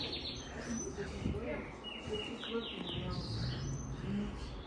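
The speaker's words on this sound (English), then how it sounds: "These birds are loud over there," Busy outdoor birdsong, many chirps and tweets overlapping at a moderate distance, with people talking underneath.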